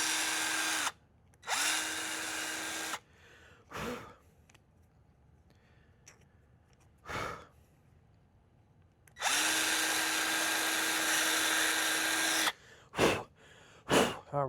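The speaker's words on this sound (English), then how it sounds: "Let me drill that out real quick so that way we're not worried about that." Power drill boring out the screw holes that hold a fan on a throttle build, with two long whirring bursts separated by sharp clicks and handling noises.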